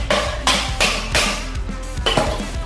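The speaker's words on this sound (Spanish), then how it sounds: "Martillo de goma." A rubber mallet taps the folding joint of an electric scooter, a run of about six firm, evenly spaced knocks heard up close.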